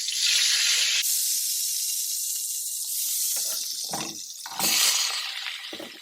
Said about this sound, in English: I'm going to be using some of the oil from the sauce to stir fry the vegetable.